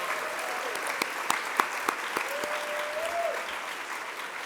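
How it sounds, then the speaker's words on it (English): An audience at a conference keynote applauds in a dense, even patter, with a few sharper individual claps standing out and a faint voice rising briefly beneath it. "Give him a round of applause"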